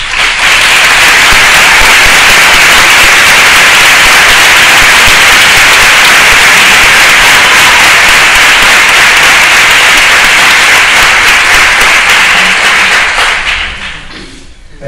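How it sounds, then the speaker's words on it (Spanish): Audience at a university graduation ceremony applauds loudly and continuously for about thirteen seconds, then the clapping fades out quickly at the end. "Un aplauso muy fuerte a nuestra familia"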